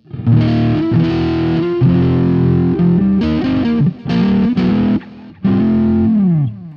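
An electric guitar on its front pickup plays chords and riffs with a warm, slightly overdriven tone, sustained notes separated by short pauses, loud and close.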